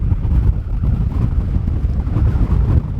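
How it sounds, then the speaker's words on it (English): Strong wind roars across an exposed cliff top at Bennan Head, buffeting the microphone in a loud, continuous low rumble that gusts unevenly throughout. "the wind's too strong for me to do anything"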